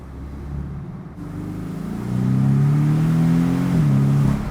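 Porsche 718 Boxster S in sport mode with the exhaust open, a loud steady engine drone that swells as revs climb, then holds and dips slightly, with no talk.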